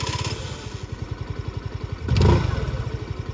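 A 2022 Hero Destini 125 Xtec 125cc scooter idles with a fast, even, close thudding beat. A short rise in the engine note comes near the end before the idle settles again, and no voices are heard.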